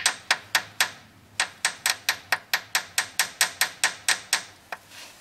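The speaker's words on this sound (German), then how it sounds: "werden wir ein paar ganz leichte Schläge auf den unteren Pleuel mit einem ganz kleinen Hammer drauf machen" A very small hammer lightly taps the lower connecting rod of a BMW M30 engine to loosen it from the crankshaft, about twenty crisp metallic knocks in a steady, close rhythm with one short pause.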